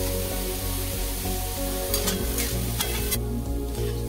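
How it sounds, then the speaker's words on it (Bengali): Mixed vegetables frying in a pan for noodles, with a loud, continuous sizzle up close and several quick metallic stirring scrapes toward the end, with no voices. "সব সবজিগুলো দিয়ে এবার ভালো করে ভেজে নেবো আমি"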